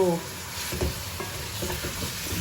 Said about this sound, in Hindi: प्याज अलग ब्राउन करो, चिकन अलग ब्राउन करो